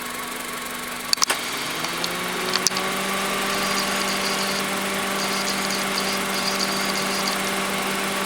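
A 2004 Honda Civic engine, after a thermostat housing O-ring replacement, holds a steady elevated speed near 2,500 RPM with a constant even hum and a few clicks at the start, no voices.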